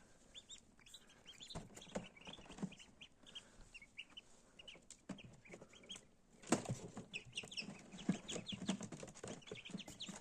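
Soft, high peeping chirps come in scattered bursts from several newly hatched Muscovy ducklings, with faint rustling and a few louder clucks in the middle.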